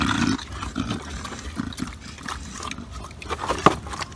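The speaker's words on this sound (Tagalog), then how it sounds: "pakainin natin yung kulay itim na baboy" Black pig eating at feeding time, with grunts and snuffling chewing noises close by in a busy, rough barnyard mix, plus a sharper squeal or clatter near the end.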